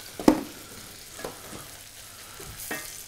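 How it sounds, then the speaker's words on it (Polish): Food fries in a pan on a stove and is stirred, a low sizzle broken by a sharp utensil clack near the start and a few softer scrapes and taps after, with no voices. "Tu musimy cały czas operować temperaturami, żeby nie za mocno, nie za słabo się smażyć."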